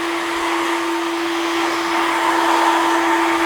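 A hair dryer runs on high speed and high heat while drying a textured crop haircut in a barbershop, a loud steady close whoosh with a constant motor whine and no speech.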